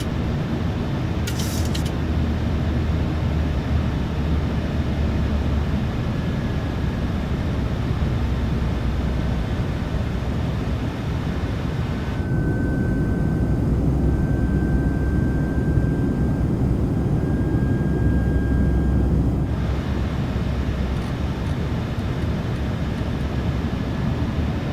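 A PMDG 737-800 in Jet2.com livery, simulated in Microsoft Flight Simulator 2024, accelerates in the climb after departing Birmingham for Dalaman. Its jet engines give a loud, steady cockpit roar with a faint thin whine, and no talking.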